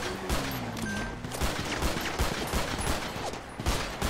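Gunfire aimed at police in the video game GTA 5, a rapid fusillade of shots in quick bursts, loud and continuous for about four seconds.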